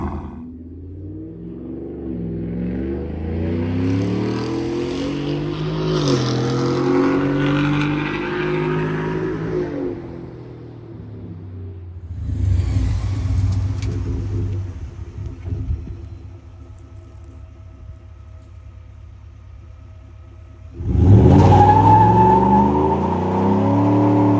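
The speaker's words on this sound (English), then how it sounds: "It's getting louder the longer it idles." A 2024 Ford F-150 5.0 V8 with a Corsa Extreme cat-back exhaust rumbles and revs in rising surges, drops back to a low idle, then roars loudly again near the end.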